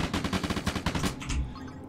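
Alien creatures fire rapid shots in the space video game Space Scavenger, a fast, even stream of blasts like a machine gun that stops after about a second and a half.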